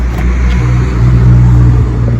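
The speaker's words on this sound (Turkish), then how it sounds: "Gece yarısı araba geçiyor." A car going past on a road at midnight near a cemetery in Bursa, a steady low engine rumble that swells slightly toward the middle, fairly close and continuous throughout, with no voices over it.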